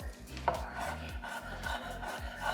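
A knife chops rehydrated mushrooms for Cantonese sticky rice on a board in quick, steady, close strokes, with a slight scrape now and then.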